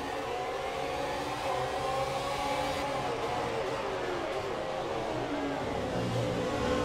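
F1 cars in F1 2017 roar back up to race speed on a wet track at the restart, a steady dense engine drone with rising revs and spray noise throughout.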